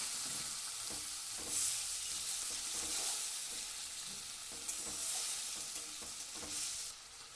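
Spice-washing water is poured into sizzling ginger and dried chilli paste in a pan, releasing a broad, loud hiss of frying and steam. The sound holds steady with small crackling pops, and there is no talking.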